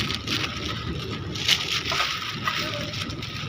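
Floodwater pours along a waterlogged street and into houses with a constant, rushing, broadband wash, steady and close with occasional sloshes.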